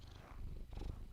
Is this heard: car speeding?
no